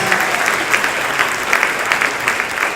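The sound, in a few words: round of applause for Dr. Butcher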